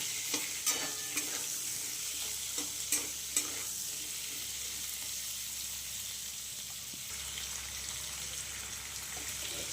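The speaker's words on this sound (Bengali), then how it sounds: "এগুলোকে মশলার সাথে ভালো করে একটু ভাজা ভাজা হতে দেবো" Raw kohlrabi pieces frying with spices in a pan crackle with a steady close sizzle, punctuated early on by several sharp scraping clicks of a stirring spoon, then settling into an even, quiet fry.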